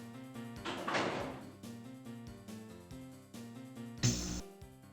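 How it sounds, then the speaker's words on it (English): A door opening in the 1994 game Marathon gives two heavy mechanical swishes, the second louder and sharper, with a sustained droning music bed underneath. "I heard a door."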